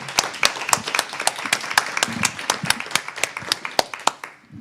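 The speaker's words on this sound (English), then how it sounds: "a big applause for our speakers" A modest conference audience claps for the speakers, with individual hand claps distinctly audible in an uneven, sparse rhythm that thins out and fades near the end.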